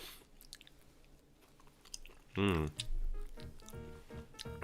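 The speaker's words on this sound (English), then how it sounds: "I can't deal with the munching noises." Close, quiet munching and chewing from someone eating on a live stream, soft wet bites under and between bits of talking voice.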